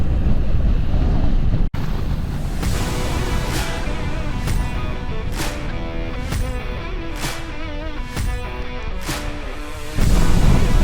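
Strong wind roaring and buffeting against the microphone during an ultra-distance bike ride, a loud continuous rush with a brief dropout, alone with no voices.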